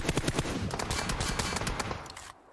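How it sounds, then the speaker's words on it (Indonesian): Rapid bursts of automatic gunfire crackle from the Peace Elite battle royale game during a tournament match, dense and loud for about two seconds before cutting off abruptly. "Oh, tembakan yang lepas oleh Mat Toy daripada kawasan atas"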